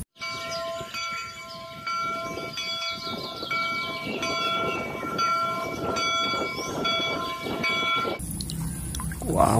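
A toy train gives off continuous rumbling and clattering with high tonal whistle-like lines over it, steady and fairly close, ending in a brief burst of different noise.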